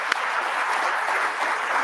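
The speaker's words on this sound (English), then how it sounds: "Let's have another round of applause for all of them." Audience applause for panel speakers at a public forum held in the Grange Insurance Audubon Center, a dense, even wash of clapping throughout with one sharp nearby clap at the start.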